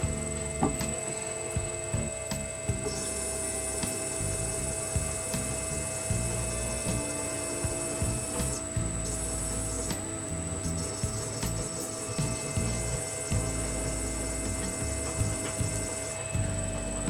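A gemstone faceting machine cutting citrine: a steady machine hum with a high whine, running continuously with small irregular clicks and knocks throughout, no voices.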